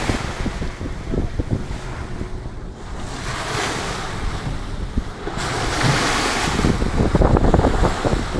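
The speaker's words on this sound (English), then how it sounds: "waves, I love the way they're crashing against the" Ocean waves and swells crash and wash against a sailing boat at sea, a loud continuous surf roar with heavy wind buffeting the microphone, swelling stronger toward the end.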